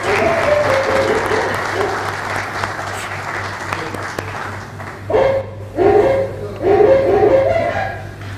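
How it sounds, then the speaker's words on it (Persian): A studio audience applauds a contestant on a television comedy show, with steady clapping at first and then louder bursts of clapping mixed with voices and cheering toward the end. "تشویقش بکنید."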